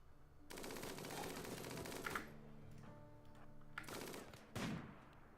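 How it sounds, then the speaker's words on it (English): Bursts of video game gunfire from a colony defense in Rimworld, a rapid rattling volley followed by further shorter bursts and steady tonal hum, loud and close with no talking. "Cactus, are you going to fire on this one?"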